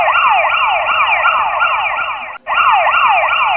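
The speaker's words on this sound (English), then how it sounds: "I hear sirens." Emergency vehicle siren wailing loudly and close, a rapid rising yelp repeating steadily, briefly cutting out for a moment before resuming.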